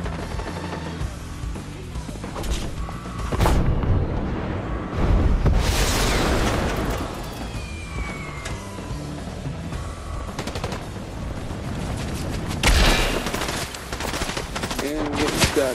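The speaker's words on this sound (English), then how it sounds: "Who's shooting at me?" Gunfire from a squads shooter video game rattles in loud, dense bursts and rapid volleys, swelling and fading over a constant backdrop of battle noise, with a few sharper blasts.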